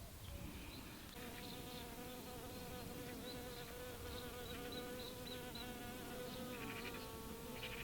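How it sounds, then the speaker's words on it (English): A steady insect buzz hums continuously with a high droning whine, close and clear, with no voices. "And this looks like a bee."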